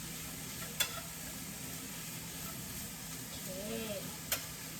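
Mushrooms being stir-fried in a pan give off a soft, steady sizzle and hiss, broken by two sharp clicks of a utensil scraping the pan.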